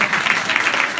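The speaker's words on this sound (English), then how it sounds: "May we give you another round of applause." A brief burst of clapping from a Buddhist gongyo meeting congregation in Maryland, a short round of applause lasting about a second.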